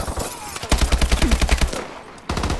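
Rapid automatic gunfire in Call of Duty Advanced Warfare gun game mode, a loud close burst of evenly spaced shots lasting over a second, followed by a brief pause and another shot.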